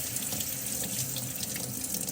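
Warm water runs steadily from a faucet into a sink being filled for hand-washing a knitted scarf, a continuous, close, even rush with no talk.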